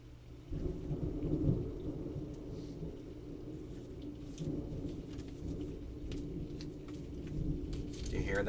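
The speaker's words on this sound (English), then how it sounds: "Do you hear the rumbling of the thunder?" Rumbling thunder from a thunderstorm with rain, a low continuous roll swelling in places over steady rainfall, moderately loud throughout.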